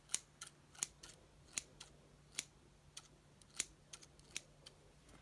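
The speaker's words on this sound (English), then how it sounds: "You mark it, and then you just cut." Scissors snip through fabric for a doll-sized Christmas bed cover, about a dozen crisp, separate cuts at an uneven pace, close and fairly quiet, with no talking.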